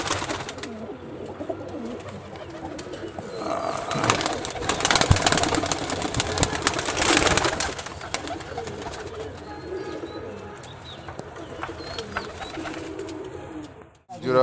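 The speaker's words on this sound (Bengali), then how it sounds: "মাশাআল্লাহ খুব সুন্দর কবুতর জোড়া।" Pair of Giribaj high flyer pigeons at a pigeon farm, with soft cooing and bird calls spread through a steady noisy background, faint human voices now and then.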